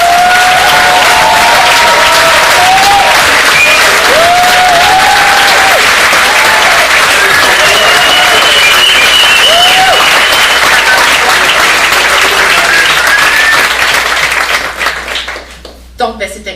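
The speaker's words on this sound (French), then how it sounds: "Alors vraiment, on les applaudit." Audience applause and some cheering after short film screenings at a festival evening, loud sustained clapping filling the room with a voice speaking over it, fading toward the end.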